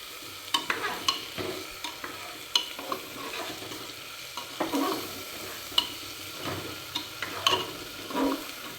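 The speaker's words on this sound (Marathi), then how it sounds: "आपला डाळ आणि तांदूळ या फोडणीत जरा परतून घ्यायचा." Washed dal and rice are stirred in hot tempering for khichdi, giving a soft continuous sizzle broken by scraping and clinking of a spoon against the pan, alone and fairly close.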